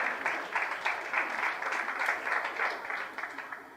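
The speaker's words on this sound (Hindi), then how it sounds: "जोरदार तालियां बजाए।" Audience applause at a religious sermon, moderately faint, with rapid, even hand claps from a small gathering blending into a steady patter for a few seconds.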